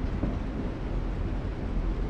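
Steady low rumble of a moving train in The Walking Dead: The Final Season, a continuous rolling drone with no distinct clacks, fairly loud and unbroken throughout.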